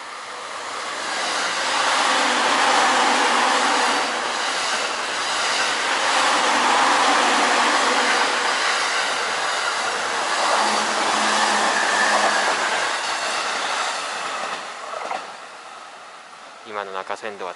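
A long 15-car train rumbles past a level crossing in Kitamoto, Japan, with a broad, rushing roar that swells and fades, a voice briefly audible toward the end.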